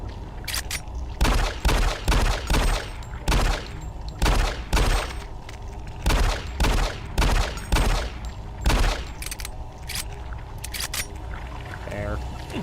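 Shotgun blasts in the game Doom 3, more than a dozen loud, close booms in an irregular rapid sequence, with someone talking in between and over the shots.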